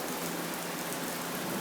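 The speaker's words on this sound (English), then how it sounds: "it started raining on us, so we had to push it back inside" Rain pours down outside a garage as a steady, even wash of hiss, with no voices and no distinct drops standing out from the constant patter.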